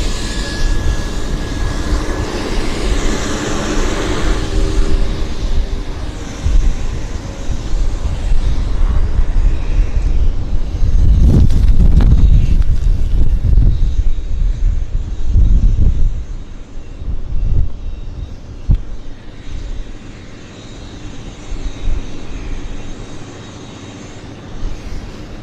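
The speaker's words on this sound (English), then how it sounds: "Really quite heavy for a Westjet Q400." A WestJet Q400 turboprop airliner passes at an airport, a loud, sustained engine roar that peaks in the middle and slowly fades, with some wind buffeting on the microphone.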